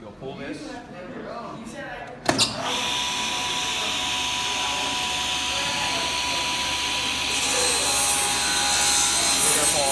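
Brief talk gives way to a table saw switching on, its motor spinning up to a loud, steady whine, with a slightly heavier tone toward the end as the blade passes through wood.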